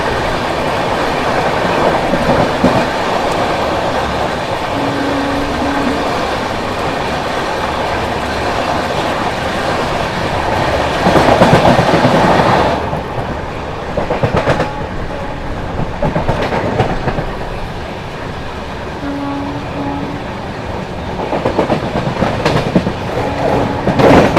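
The Howrah–Jabalpur Shaktipunj Express rolls past close by on a parallel track with a steady rumble and rhythmic wheel clatter, loud and continuous, with a brief metallic squeal partway through.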